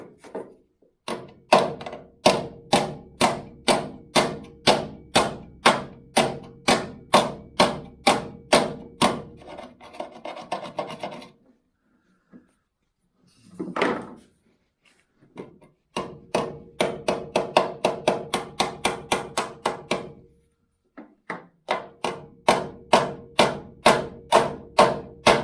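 Hammering on metal during a B-post repair on a VW T2 Bay campervan, with long runs of evenly spaced, loud, close blows that pause briefly midway and then resume at the same steady pace.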